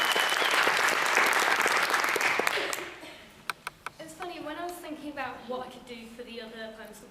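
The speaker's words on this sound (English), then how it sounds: "And keep that applause going for Joanna Mason." Audience applause for poet Joanna Mason at the Library of Birmingham Young Poet Laureate auditions, a loud dense burst of clapping that fades after about three seconds, leaving a few sharp taps before a voice begins speaking.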